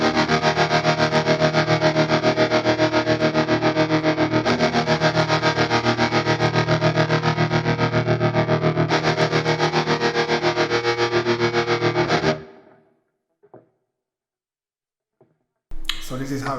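Distorted electric guitar through a Fractal FM3 set for a tone with tremolo and phase, sustained chords pulsing rapidly in a steady wobble, loud and close, then cutting off to near silence before a brief return.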